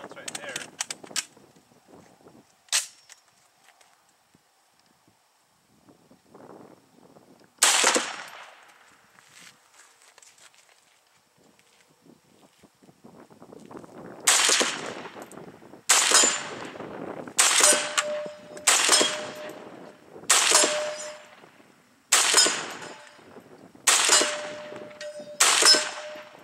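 An FN FAL rifle fires at an outdoor range: a few scattered shots early, then a run of about nine sharp, loud reports at steady intervals, each with a ringing tail, plus brief speech between.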